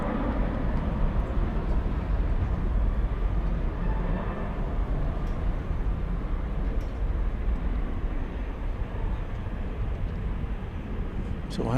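Airbus A380 and other airliners at DFW airport at night, heard as a steady broad jet roar from moderate distance, continuous and even with no distinct events.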